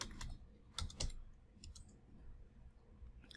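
Typing on a computer keyboard: a few quiet, close key clicks, some in quick pairs, with faint pauses between them in a hushed room.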